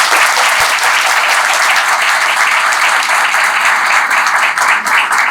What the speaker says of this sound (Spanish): pido un aplauso para nuestra universidad